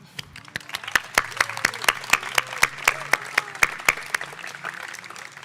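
Crisp hand claps ring out in a steady, evenly spaced rhythm at a school commencement ceremony, about three per second, standing out clearly over a quieter room.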